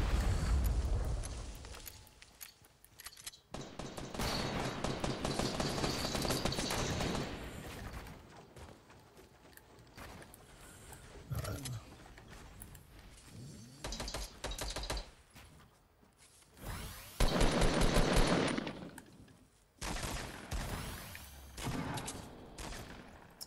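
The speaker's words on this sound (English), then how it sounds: "Shooting." Gunfire in Fortnite Battle Royale, several separate bursts of rapid shots and clattering weapon sounds with quieter gaps between them.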